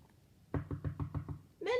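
Five firm knocks on a door in an even rhythm, close and distinct, followed by a voice rising right after.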